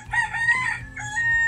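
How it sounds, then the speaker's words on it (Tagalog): A single rooster crows at night in the Philippines, a bright drawn-out cock-a-doodle-doo heard clearly against faint background noise. "Ayun, may manok."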